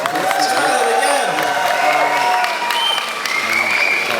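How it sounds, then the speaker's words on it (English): A live audience at a stage show claps steadily throughout, with a few scattered whoops and cheers rising from the crowd and a broad, continuous wash of applause filling the room. "A few of you applauded that."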